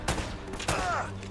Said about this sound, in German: Schüsse, würde ich sagen.